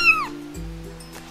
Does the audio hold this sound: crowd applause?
no